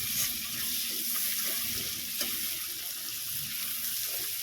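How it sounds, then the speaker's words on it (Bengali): Sliced onions fry in a pan, being browned lightly to a reddish colour, giving a steady broadband sizzle throughout with a few faint stirring clicks, fairly close and alone without talk. "পেঁয়াজটা একটু লাল লাল করে ভাজা হয়ে গেলে মোটামুটি একটু লাল করে ভাজো"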